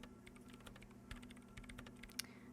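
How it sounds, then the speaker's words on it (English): Rapid typing on a computer keyboard in the video game Disco Elysium, a steady run of light, close key clicks with a few louder taps over a low background hum, no voices. "her hands typing hundreds of commands into the machine"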